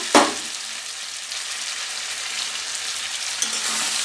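Fried fish heads dropped into a hot spice paste for cabbage curry burst into a loud, continuous hissing sizzle after an initial splash, steady and close throughout.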